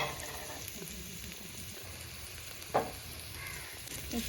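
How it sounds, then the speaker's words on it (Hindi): Garlic and ginger paste frying lightly in a little oil: a soft, continuous sizzle and crackle, faint and close, with one brief sharper clink partway through and no talking. "और यहाँ लहसुन और अदरक का पेस्ट. तो हल्का हल्का ही फ्राई करूंगी."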